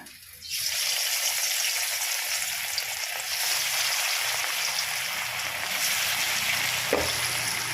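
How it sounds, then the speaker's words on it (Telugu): Fish sizzles steadily in hot oil in a kadai, a loud continuous crackling hiss that starts abruptly and holds at an even level, with a small clink near the end. "ఇక్కడ కడాయి పెట్టుకున్నా ఇక్కడ కూడా గోలిస్తాము"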